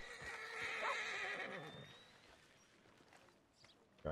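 Horse in Red Dead Redemption 2 neighs with a long whinny near the start, followed by soft hoof clip-clops and quieter ambient movement, fairly faint overall.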